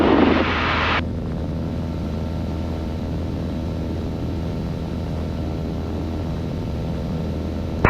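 A Beechcraft Bonanza's piston engine drones loud and steady in flight, heard from inside the cabin as an unbroken propeller hum after a brief burst of noise at the start.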